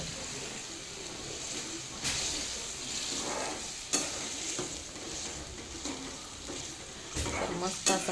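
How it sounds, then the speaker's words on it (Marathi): Chopped safflower greens land in a hot frying pan and are stirred, giving a steady sizzle with scraping and clattering of the utensil against the pan; several sharper knocks stand out, and there is no talk. "तर असं त्यामध्ये टाकते करड्याची भाजी"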